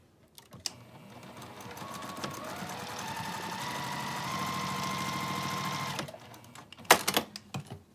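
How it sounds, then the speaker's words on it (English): Close sewing machine stitching a quarter-inch seam on an apron pocket, starting with a few ticks, then running in one continuous even hum for about five seconds before stopping, with a few clicks after. "now we just have to do a 1/4-inch seam on each side"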